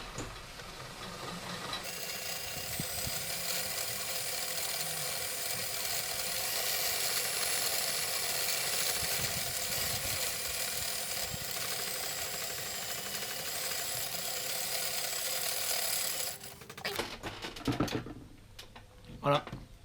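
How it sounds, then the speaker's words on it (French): Fishing braid line being wound onto a spool, a steady mechanical whirring that runs continuously for most of the stretch before stopping, followed by a few handling clicks and knocks. "On commence l'opération, on enroule."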